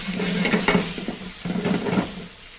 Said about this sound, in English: And also going to add my mirepoix also to brown them.